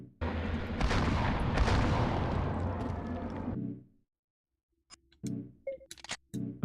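Gunfire in Silent Hill: Origins on PS2: a loud burst of booming shots and rumble lasts about three and a half seconds, then near silence broken by a few short thuds and clicks.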